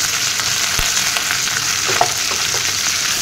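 Fish heads frying in home oil with turmeric and ginger, a steady close crackling sizzle with small pops and stirring, no voices.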